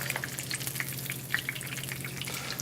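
Chicken frying and caramelizing in oil in a pan, a steady soft sizzle with scattered small pops and crackles at close range, low in level with no talk.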